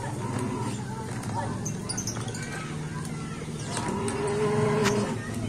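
Cattle in a pen, low lowing and shuffling heard fairly close amid a busy outdoor background with people talking nearby.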